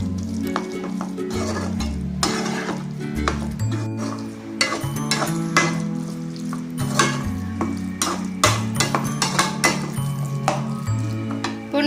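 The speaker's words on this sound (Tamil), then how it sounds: "பன்னீர் சேர்த்து நல்லா கலந்துட்டு" Paneer keema masala being stirred in a pan: a loud, continuous scraping and clinking of a spoon against metal over a sizzling base, close up, with no talking.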